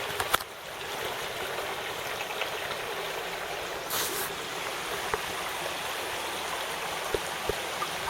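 Swollen creek water after rain flows in a steady, broadband rush and trickle, continuous and fairly close, with a few small splashes or knocks along the way.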